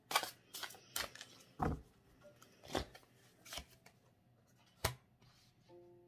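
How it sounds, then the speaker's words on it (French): Tarot cards are shuffled and laid down in a quiet room, with soft crisp riffles and slaps arriving in irregular bursts, close and fairly faint. "Allez, on va encore remettre des cartes"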